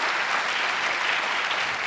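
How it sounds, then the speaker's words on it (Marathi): Brief burst of audience applause at a Latur career-guidance talk event, dense and sustained clapping from a large crowd. "आजच्या या दिवसाबद्दल या 5ही जणांना आपण खूप टाळ्या देऊया."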